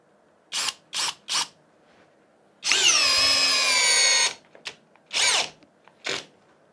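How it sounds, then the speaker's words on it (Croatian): A Parkside Performance PBSPA 12 C3 12V cordless drill, fitted with a 4 Ah battery and set to second speed in drilling mode, gives a few short whirring bursts and then one sustained high-pitched run of about a second and a half, close up. "Druga brzina, režim bušenja."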